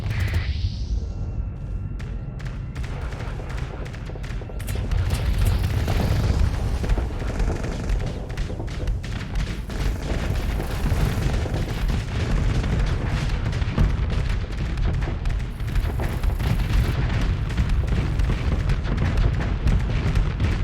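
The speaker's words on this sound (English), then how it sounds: "I do like that strike cannon." Heavy strike cannon fire in the space combat game Starsector, with a pirate fleet of low-tech ships: dense, continuous booming blasts and explosions layered over a rumbling low end for the whole stretch, loud and unbroken.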